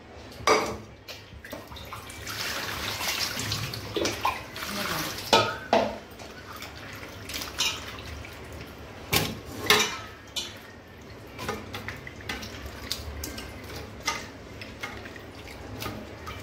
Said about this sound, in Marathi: असं 2 पाण्यात आपण स्वच्छ भाजी धुवून घ्यायची आहे.